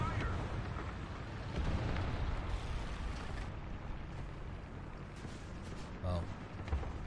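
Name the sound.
artillery strike explosions in video game War Thunder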